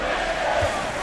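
A virtual arena crowd roars during a simulated professional basketball game, a loud sustained wash of cheering with no break across the moment.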